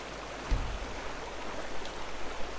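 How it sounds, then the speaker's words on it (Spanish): Water flows in a video game stream in a wooded riverbed area, a constant rushing wash at moderate volume with slight swells and a brief low thump early on. "Joder con el agua"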